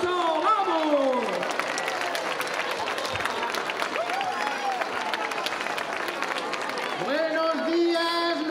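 A street-festival crowd at the Gigantes y Cabezudos parade in Soria applauds and cheers steadily as costumed figures arrive, with shouting voices and whoops rising over the continuous clapping.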